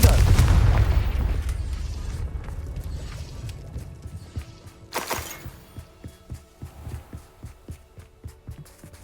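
A Confringo blasting spell in the Hogwarts Legacy video game lands as a loud, deep boom that rolls off over a few seconds, followed by a series of soft, rhythmic thumps, like a pulse.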